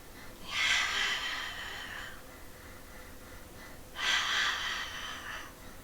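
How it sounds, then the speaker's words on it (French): Two long breaths drawn in and blown out during a Pilates exercise with a ball squeezed between the knees, each a broad airy hiss about two seconds long, close and fairly loud, with no talking over them. "Et inspire, et souffle."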